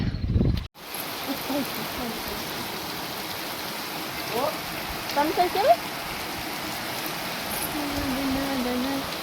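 Steady rain hiss fills the scene throughout, with a sharp knock at the start and a few faint bird calls in the background.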